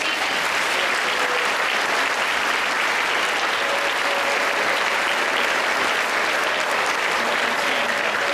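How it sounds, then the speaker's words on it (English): Sustained applause from a large audience, a thick, even wash of clapping that holds at a constant level from start to finish without pause. "I would love for you to give him a round of applause for the different people."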